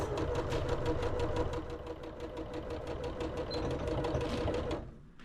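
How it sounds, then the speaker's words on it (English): A domestic sewing machine stitches a small fabric box bag in a fast, even mechanical chatter, close and steady for about five seconds before it abruptly stops. "here on my sewing machine"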